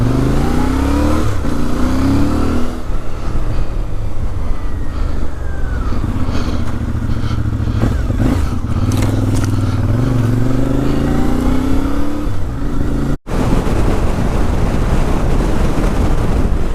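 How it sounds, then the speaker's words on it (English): A motorcycle with stock exhaust pipes riding in December rain, its engine rumbling and revving loud and close under heavy wind buffeting, with a brief cutout before continuing. "They sound good even with stock pipes"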